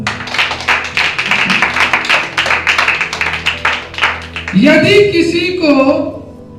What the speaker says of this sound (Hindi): परमेश्वर के लिए जोरदार ताली